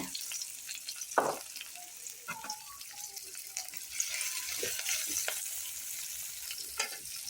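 Chopped garlic dropped into a hot pan with onion and chili, a soft crackling sizzle with faint stirring clinks and a short splash, fairly quiet and close.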